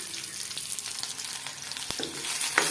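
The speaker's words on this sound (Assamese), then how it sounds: "পিঁয়াজ দিয়ে আদা নহৰু পেষ্ট বনাই থৈছিলোঁ যে, ইয়াৰো অলপ দি দিম। তেলতে মছলা" Onion with ginger-garlic paste frying in oil in a home kitchen, a soft steady sizzle with a few faint stirring clicks over a short stretch.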